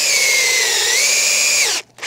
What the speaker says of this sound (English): we'll drill in exactly 2 inches